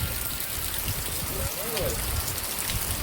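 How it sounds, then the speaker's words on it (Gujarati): Dense, continuous heavy rainfall in Botad, Gujarat hisses and drums on surfaces, loud and unbroken for the whole stretch. "જોરદાર વરસાદ છે. વરસાદ જોરદાર ચાલુ થઈ ગયો."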